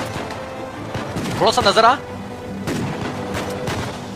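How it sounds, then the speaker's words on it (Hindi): Gunfire in Uncharted 4 by a waterfall, with several sharp shots cracking out at irregular intervals amid a faint rushing background while someone talks over the action. "गोली चलाई जा रहा है"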